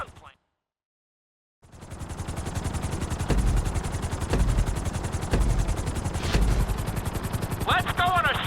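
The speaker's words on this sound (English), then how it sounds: "we're gonna put you in a helicopter for this lesson" A helicopter in the GTA 5 flight school lesson, a dense steady rotor and engine roar starting after a brief silence, with sharp thumps cutting through and a short high tonal beep near the end.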